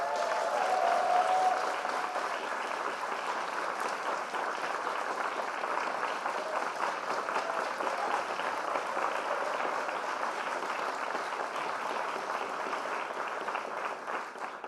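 A morning-lecture audience claps to welcome a guest onto the stage, a long, even roll of applause that swells slightly at the start and stays sustained, moderately distant and without talk.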